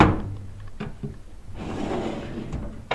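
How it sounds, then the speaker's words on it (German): A cosmetics drawer slides open with a low rumbling scrape and a couple of soft thunks, close and moderately loud, followed by light rattling of items inside. "und jetzt kommt die letzte Schublade."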